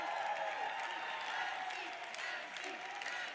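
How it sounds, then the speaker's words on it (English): An awards ceremony audience applauds for an honoree, a faint, distant spread of many hands clapping that fades slightly toward the end, with a few murmured voices underneath. "A round of applause for Nancy."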